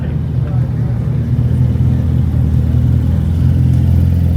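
The engine of a Le Mans hypercar-inspired Porsche P39 supercar produces a loud, steady low rumble that holds throughout, close by.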